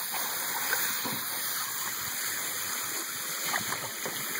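A garden hose sprays water in a steady, even rush at a pool, with a few faint splashes over a constant hiss.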